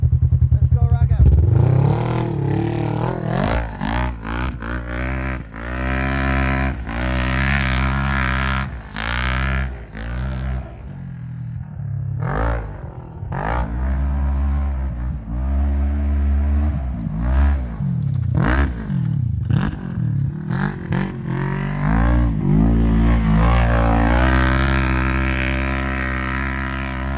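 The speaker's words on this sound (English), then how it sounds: "We got a new tune and super loud exhaust from Aftermarket." Side-by-side UTV with an aftermarket stage 2 tune kit and a very loud exhaust revs hard and continuously, its engine pitch climbing and dropping through repeated throttle blips, close and dominant, with voices talking over it.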